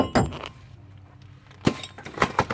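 Sharp metallic clinks and clanks from a brake rotor being pulled off a Ford Five Hundred Limited during front brake and wheel bearing work, a cluster of close hits at the start, a quiet gap, then several more knocks near the end.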